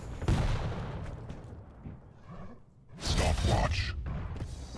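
Rocket launcher shots in a Quake Champions tournament match, two loud booming blasts with rushing explosive tails, one early and one near the middle, under excited commentator talk.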